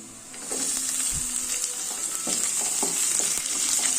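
Onions sizzling as they fry in hot oil for an evening chaat snack, a steady close crackle with small stirring knocks and hisses running through the whole stretch, no voices.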